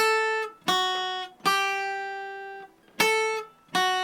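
A clean guitar plucks a short melody, single ringing notes with pauses between them, each note sustaining and fading before the next.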